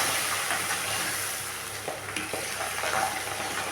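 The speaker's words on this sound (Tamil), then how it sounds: "பூண்டு கொஞ்சம் வதங்கட்டும்" Garlic fries steadily in about a hundred grams of hot oil for a pepper kara kuzhambu, a continuous close sizzle with a few soft stirring scrapes near the end.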